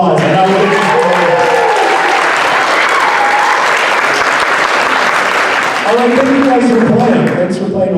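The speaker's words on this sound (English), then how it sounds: "you deserve a big round of applause" A big round of applause from the crowd at a sci-fi and writing convention's opening ceremonies, honoring a quiz winner: dense, loud, sustained clapping that fills the space, with voices cheering within it.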